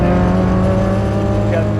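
A Honda Civic Kanjo race car running at night on the Osaka loop expressway, its engine droning steadily and loud with a constant harmonic hum, close by and continuous throughout.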